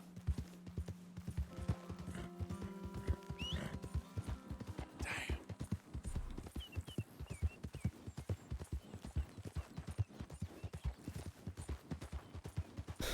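Galloping horse hooves in Red Dead Redemption 2, a fast steady clip-clop close up that runs throughout, with brief saddle and harness creaks and faint game ambience.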